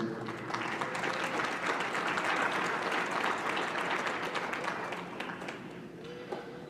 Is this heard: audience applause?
yes